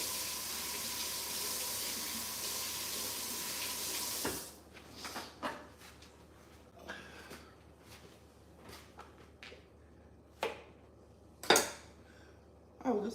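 A zucchini being rinsed under a running kitchen tap: a steady rush of water for several seconds, then the flow stops, followed by scattered clinks, taps and handling noises nearby.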